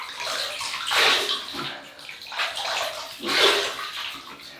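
Water splashes in close, uneven bursts as a face is rinsed after a shave, three or four wet surges with quieter dripping between them.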